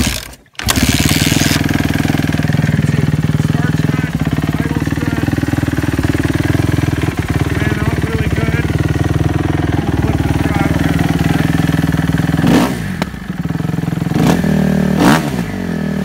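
A 2011 Kawasaki KX250F motocross bike fires up right away and holds a loud, steady high idle close by, then near the end the engine dips and gets two quick blips of revving.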